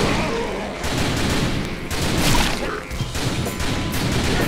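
Dense, continuous gunfire in the video game Typing of the Dead forms a loud, crashing wall of shots and booms that runs through the whole stretch. Talk may sit faintly under it.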